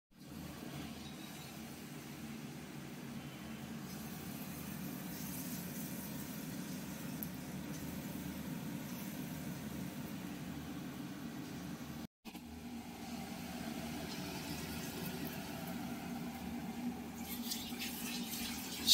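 Coconut fritters fry in mustard oil in a wok, a steady close sizzle running unbroken for nearly the whole stretch, with one brief gap partway through and no talk.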